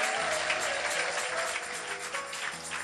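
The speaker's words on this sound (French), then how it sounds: "Acclame très très fort pour les seigneurs." A church congregation claps loudly and continuously during a lively service, dense steady applause with a few cheers mixed in.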